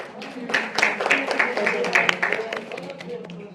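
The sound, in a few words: audience round of applause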